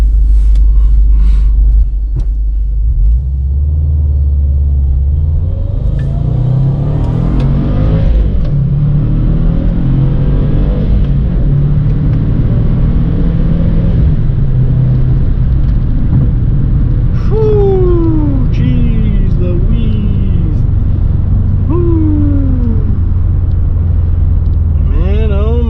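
A Subaru WRX engine rumbles and slowly builds revs through a gentle, unhurried takeoff, heard from inside the car as a loud, steady drone with rising gear pulls and some talk over it.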